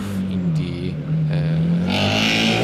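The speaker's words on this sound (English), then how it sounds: "That engine is really loud." A Formula Student combustion race car engine revs loudly at an autocross event, its pitch climbing and dipping through several throttle blips, close and harsh, with some talk faintly mixed in.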